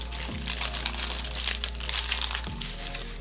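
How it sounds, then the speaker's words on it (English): Paper wrapper crinkling and crackling steadily as an astronaut ice cream sandwich is unwrapped, close and continuous over a low steady hum. "Let's unwrap from these lovely, neat little paper"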